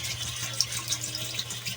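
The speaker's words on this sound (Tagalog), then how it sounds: "Lagyan na natin ng kanyang tubig" Water pouring into a pot of chicken pochero after the chicken has released its fat, a steady splashing wash of liquid that holds even and fairly loud throughout the short stretch.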